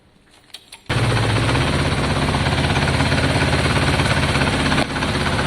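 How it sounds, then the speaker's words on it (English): A Kawasaki ZL600 motorcycle engine fires up after a few cranking clicks and settles into a loud, steady, throbbing idle close by, with a brief dip near the end. "We'll fire it up again"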